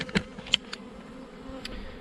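Honeybees on a hive frame without their queen, in a queen-rearing setup, give a faint steady hum with a few brief closer buzzes of individual bees passing near.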